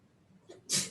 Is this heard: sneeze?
yes